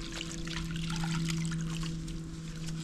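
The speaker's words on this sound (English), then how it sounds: "Really wring that out good." Water trickling and dribbling as a cleaning rag is wrung out after wiping blush off epoxy, a close continuous splashy trickle over a steady low hum.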